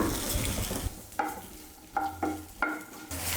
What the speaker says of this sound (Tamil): இப்போ இதில் வெண்டைக்காய் போட்டு வதக்கிக்கலாம்